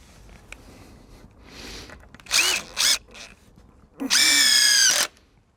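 A power drill driving screws into the wooden legs of a hive stand, two short whirring bursts followed by a longer steady drive, close and loud, with quiet handling between.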